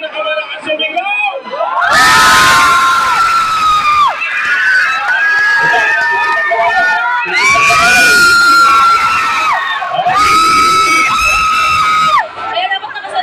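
A large crowd at a Philippine show event shouts and cheers loudly in repeated surging bursts, with whoops and high yells rising and dropping over about thirteen seconds.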